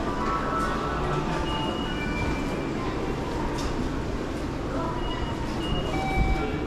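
Train pulling into a station in Akihabara, Japan: a steady, loud rumble of rolling cars with faint squeals and rattles across the whole stretch, with station ambience and some voices mixed in.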